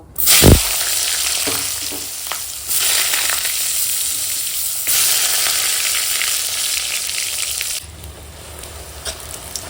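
Eggplant slices fry in hot oil left over from frying river tangra fish, a loud, steady sizzle filling the whole stretch, with a sharp spatter at the start and brief dips as pieces shift in the pan.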